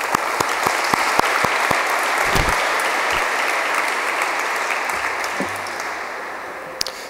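Audience applause at a French-speaking Christian gathering, a steady wash of many hands clapping for about seven seconds, fairly loud and continuous before gradually thinning toward the end, with no talk over it.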